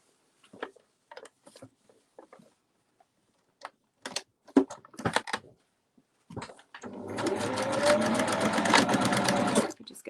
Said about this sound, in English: Then using the sewing machine, you just want to secure those ends together.